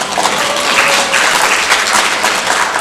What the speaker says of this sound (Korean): 김명삼님께 큰 박수를